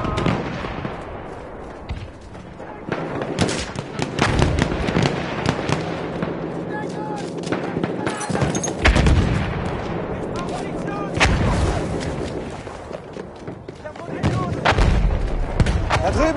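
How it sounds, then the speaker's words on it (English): Heavy artillery fire in the Battlefield 1 video game: repeated loud booming blasts and crackling gunfire over a dense, continuous battlefield din, with voices faintly heard amid the chaos. "Enemy coordinates have been sent to our artillery."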